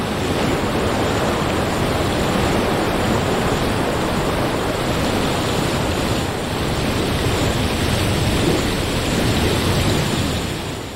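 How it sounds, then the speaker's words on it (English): A heavy thunderstorm downpour in the Sonoran Desert makes a dense, unbroken roar of rain and wind that stays loud and steady throughout with no distinct voices. "the rains that arrived on the wings of thunder fade with the evening light"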